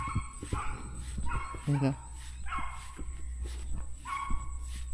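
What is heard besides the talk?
dog crying and whimpering near a rice field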